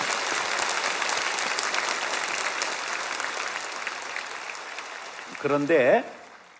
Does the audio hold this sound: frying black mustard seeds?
no